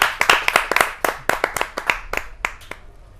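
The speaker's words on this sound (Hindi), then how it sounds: "जोरदार तालियों से आमंत्रित कीजिए प्रवीण आर्य जी" A small audience claps at a Hindi kavi sammelan poetry gathering to welcome a poet onto the stage, giving a few seconds of sharp, close, uneven handclaps that thin out and fade toward the end.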